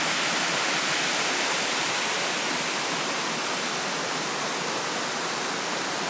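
Steady, loud roar of a waterfall spilling over rock in Michigan's Upper Peninsula, a dense unbroken rush filling the whole clip with no voices.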